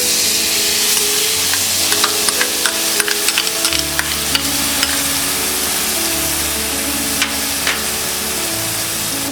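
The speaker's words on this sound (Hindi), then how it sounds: "अब हम इसमें डालेंगे ये ऑनियन और गार्लिक पेस्ट" Onion and garlic paste sizzles steadily in a hot pan while a spoon scrapes and taps as it is stirred, close and continuous with no voices.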